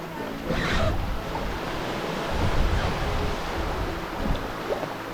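Ocean surf breaking around a sea kayak off the Oregon coast, a steady wash of waves with rising swells and gusts of wind buffeting the microphone.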